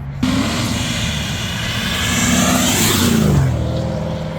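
A supercharged Grand Sport sports car passes at a street car meet, a loud sustained engine roar that builds as it approaches and then drops in pitch as it goes by, close and steady with no talk.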